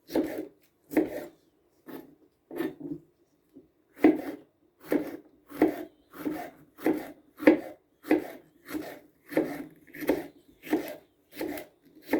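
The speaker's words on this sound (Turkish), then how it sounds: "bütün biberler bitene kadar bu şekilde doğrayacağım." A knife chops through jalapeño peppers on a cutting board, a few scattered cuts, then a steady run of crisp, evenly spaced strikes.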